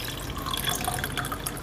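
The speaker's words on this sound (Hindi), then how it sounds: "और इसमें साथ डालेंगे हम ठंडा पानी" Cold water is poured into falsa berry sharbat, a steady, close splashing and trickling of liquid that runs unbroken throughout.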